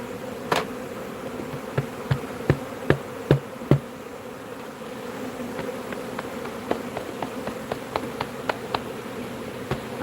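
About three pounds of honey bees dumped into a hive, a dense continuous buzzing swarm with a series of sharp knocks and taps as the package is shaken and banged, fairly close.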